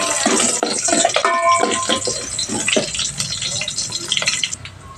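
Water poured over sardines in a cooking pot, a splashing, gurgling fill with stirring clatter, close and fairly loud, with a brief voice partway through.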